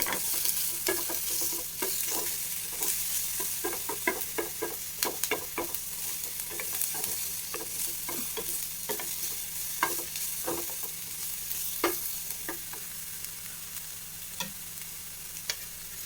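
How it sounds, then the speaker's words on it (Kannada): Onions sizzle in a hot pan for an oats weight-loss dish while a spoon stirs them, with frequent sharp scraping clicks against the pan over a continuous frying hiss, close and steady, no speech. "ಈರುಳ್ಳಿ ಇಷ್ಟನ್ನು ಹಾಕಿ ಚೆನ್ನಾಗಿ ಫ್ರೈ ಮಾಡ್ಕೋಬೇಕು"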